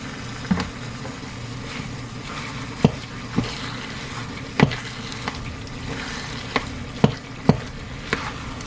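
Cheddar cheese sauce and onion mix sizzle steadily in a hot pan, with repeated sharp clicks and scrapes of a utensil stirring at irregular intervals, close and fairly loud with no talk.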